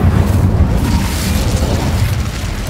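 Incendio fire spell cast in the video game Hogwarts Legacy, a loud, dense, rumbling burst of flame that holds steady for several seconds with no pause.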